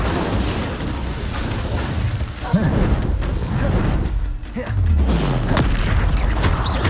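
Incendio fire spell in Hogwarts Legacy going off amid a busy duel, booming bursts and whooshing blasts rising and falling over a constant roar of combat effects.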